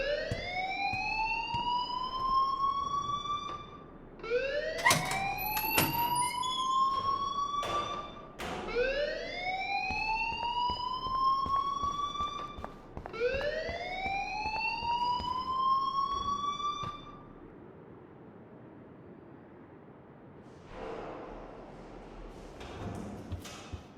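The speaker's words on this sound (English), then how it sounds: "please turn off that alarm since that's your job" Fire alarm in the Life is Strange video game: a loud electronic alarm repeating rising whoop-like sweeps about four times, with a few sharp thuds among them, then fading to a quieter tail.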